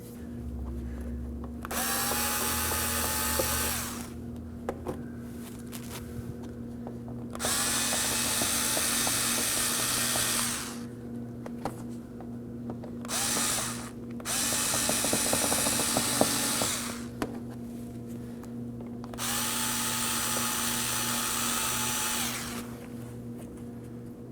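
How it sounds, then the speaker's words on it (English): A power driver spinning out the Phillips-head fender well clips on a 2011-2016 Kia Optima, four sustained whirring bursts of several seconds each separated by quiet gaps, under a constant low background hum. "Using a Phillips head screwdriver, go ahead and remove these."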